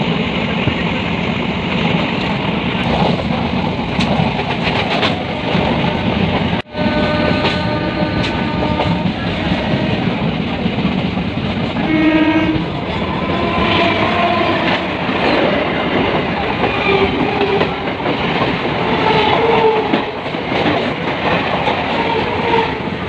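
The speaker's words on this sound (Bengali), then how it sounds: "এই যে ট্রেন এসে গেছে" A passenger train on the Kolkata suburban line rolls along continuously, wagons rattling and wheels clattering over rail joints, loud and close from on board, with a brief sharp dropout partway through and no talk.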